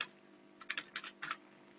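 Keys tapped on a computer keyboard while entering a Windows Server command, a short quiet burst of several clicks in quick clusters with a final keystroke, close and alone.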